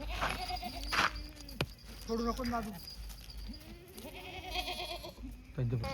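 Red Kathiawadi goats bleat repeatedly, with several wavering calls close by, mixed with a voice talking among the animals.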